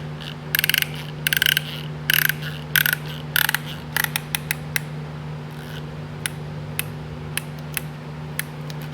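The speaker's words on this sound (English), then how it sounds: "if you'll grab that 1/4 inch ratchet" A 1/4 inch ratchet turns on a piston ring compressor during a Kubota V2203 engine rebuild, with bursts of rapid clicking followed by sparser single clicks over a steady low hum.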